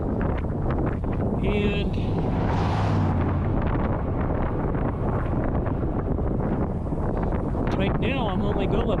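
A strong headwind buffets a cyclist's microphone in a constant loud rumbling roar on a ride across Kansas toward Oklahoma, with a voice speaking faintly underneath.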